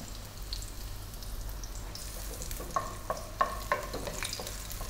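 Pig feet adobo sautéing in a pan with dried bay leaves, a steady soft sizzle with a few sharp stirring clacks and pops near the end, fairly quiet and with no voices.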